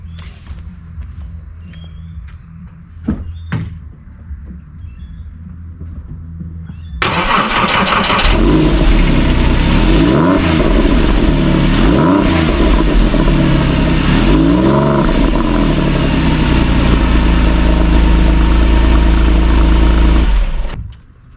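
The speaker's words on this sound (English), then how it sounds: "listen to the cold start" A Porsche 911 is cold started: after a few seconds of quiet handling noises, the engine cranks and catches loudly, then holds a high, steady idle with rising and falling revs, close and continuous until it cuts off.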